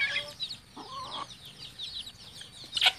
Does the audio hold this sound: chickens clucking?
yes